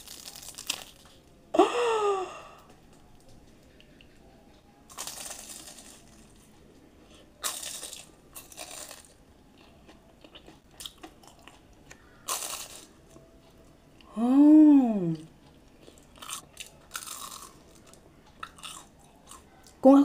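Crunchy bites and chewing of a hot fried snack, coming in short, separate bursts with quiet gaps between them, close and fairly loud, with no talking.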